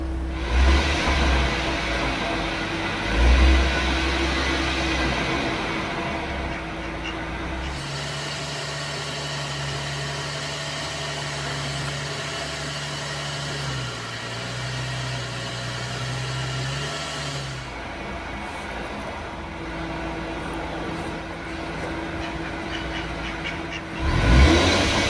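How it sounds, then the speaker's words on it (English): A car engine runs steadily nearby while the axles turn, with a faint grinding from worn axle bearings under the hum as the revs rise and fall, no talking. "I hear a slight grinding on the axle bearings."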